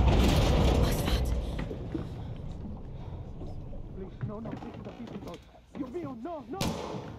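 Gunfire in the video game Far Cry 6 opens with loud booming shots over engine and boat noise, then fades as game characters talk.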